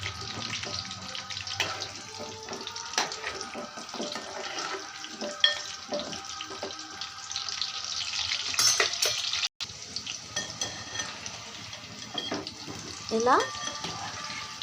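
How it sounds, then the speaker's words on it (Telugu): Food frying in a pan while being turned over again and again, a low sizzle with scraping and clinking of the spatula, and someone talking over it at times. "ఇలా ఫ్రై చేసుకోవాలి బాగా. అటు ఇటు తిప్పుతూనే ఉండాలి."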